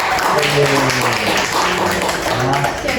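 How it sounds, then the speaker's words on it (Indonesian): Clapping and applause in a podcast studio, a thick, steady patter of many hands running throughout with voices mixed underneath. "Tepuk tangan dulu dong"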